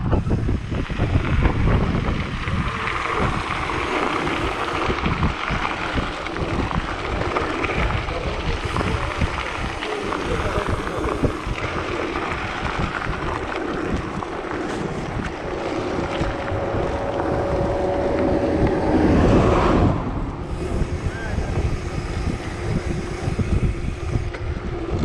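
Wind buffets the microphone during a mountain bike ride along a road, a loud, continuous rumbling gust with surges and a brief lull near the end.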